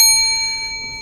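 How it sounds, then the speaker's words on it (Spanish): A soft bell rings once in a peace-education activity, its clear, sustained tone slowly fading over about a second with nothing else heard. "aquí tengo también un timbre"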